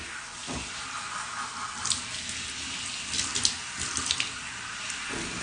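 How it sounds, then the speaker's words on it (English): Water running from a tap while washed wavy hair is rinsed, a steady splashing rush with small irregular splashes and no talking. "Now let's rinse."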